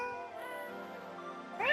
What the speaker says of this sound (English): Are happy ghasts just like the sound of someone's cat?